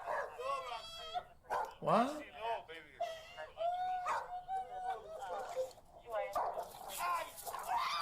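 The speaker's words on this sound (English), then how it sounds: "the couple's dog gets overexcited and bites" A dog that has become overexcited and is biting gives yelps, whimpers and short barks, close and fairly loud and mixed with frantic shouting from people nearby.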